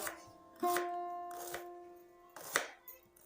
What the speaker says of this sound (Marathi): कांदा एकदम बारीक कटिंग करून घ्यायचा आहे